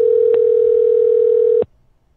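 Outgoing telephone call tone, a single steady loud electronic tone holding for about a second and a half before cutting off abruptly, with no voices.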